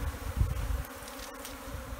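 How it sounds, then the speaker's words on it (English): A dense swarm of African killer bees hums and buzzes close by in Tanzania, a steady droning with low rumbling bursts and no voices. "Look at that. African killer bees."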